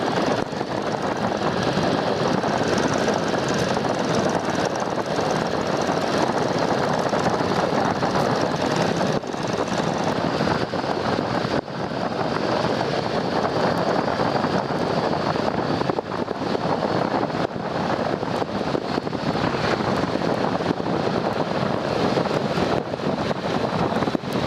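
A 1941 Boeing Stearman biplane comes in to land on a runway, its engine a constant loud drone mixed with heavy wind rush that continues without a break.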